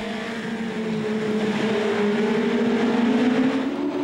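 Mitjet race cars at the Charade circuit in 2011, a steady loud engine drone holding a rising and falling tone as the cars pass close, continuous with no break.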